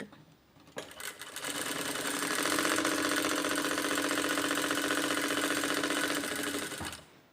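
A sewing machine stitching practice lines on fabric runs steadily for several seconds with a fast, even mechanical whir and chatter, starting and stopping abruptly, close and clear with no talking.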